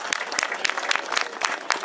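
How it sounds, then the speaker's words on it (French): A crowd at a cyclo-cross race in Saint-Thurial applauds the winner, Aurélien Cheval, with steady, dense clapping from many hands, loud and close. "on l'applaudit, Aurélien Cheval!"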